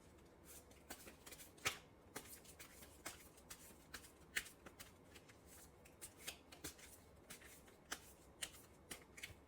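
Tarot cards being shuffled by hand, a quiet run of crisp riffling snaps and soft slides in an irregular rhythm, close and alone without talk.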